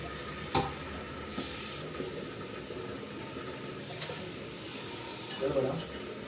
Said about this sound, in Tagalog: Prito ko na muna ito.